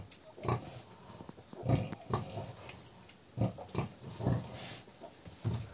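A sow lies with her newborn piglets after farrowing, with soft repeated grunts and squeals in short bursts close by, over a faint background hiss.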